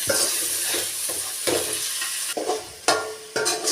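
Tomatoes frying with turmeric powder, being stirred in a pan for country chicken rasam, a constant close sizzle broken by rhythmic scraping strokes of a spoon.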